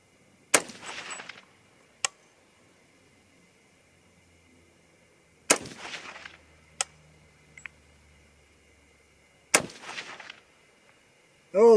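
A rifle chambered in 300 Ham'r or 6.5 Grendel fires three sharp, well-spaced shots outdoors, each with a short echoing tail, and quieter clicks fall between them.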